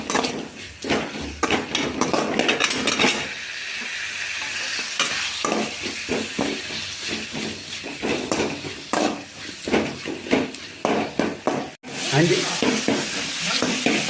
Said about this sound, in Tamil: ஒரு 5 நிமிஷம் வதக்கணும்.